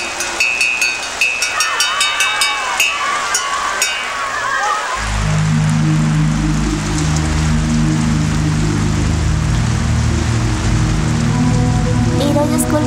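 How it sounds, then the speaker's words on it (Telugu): Heavy rain pours loud and close in a film scene, a dense steady roar beginning with dripping and faint tonal notes before building into a full downpour. "చెప్పాను కదా వర్షం బాగా పడుతోంది."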